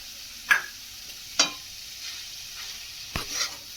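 Three sharp scraping strokes of a spatula stirring chicken and grated potato in a pan, over a steady sizzle of frying.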